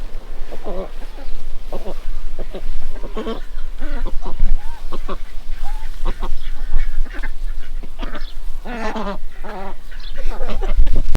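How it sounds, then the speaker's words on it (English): Runner ducks quack loudly and repeatedly near a Cornwall campsite, with bursts of overlapping calls in an irregular rhythm across the whole stretch. "Sounds like the runner ducks are out and about."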